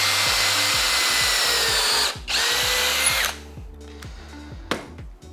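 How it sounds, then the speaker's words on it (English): A power drill drilling a pilot hole runs loud and close with a rapid stepped whine for about two seconds, cuts out briefly, restarts, then winds down to a few short bursts and clicks. "I can leave out the amount of drill bit that I need just to pilot my hole."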